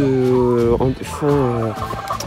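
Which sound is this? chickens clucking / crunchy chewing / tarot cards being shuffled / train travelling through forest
chickens clucking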